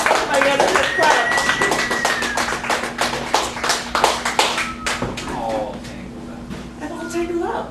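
An audience claps with sharp, uneven hand claps at an open mic poetry night in a Chicago cafe gallery, while voices talk over the applause as it gradually thins out.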